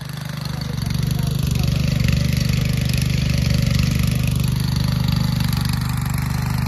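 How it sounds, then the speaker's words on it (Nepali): Steady, loud tractor engine working a rough, bumpy field during ploughing, with a continuous low mechanical drone that holds fairly even throughout and rises slightly at times under the load. "यो ट्र्याक्टर चाहिँ जोत्नुलाई एकदम गाह्रो रहेछ है"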